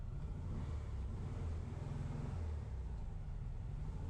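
A 1968 VW Bug idles and creeps as it is backed into place, its air-cooled engine giving a steady low rumble that stays even and fairly close throughout, with no talking.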